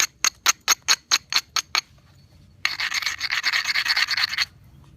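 A flint preform's chalky stone cortex being ground while knapping a Clovis point: about nine short, sharp rasping strokes in quick rhythm, a brief pause, then roughly two seconds of steady, continuous close-up grinding.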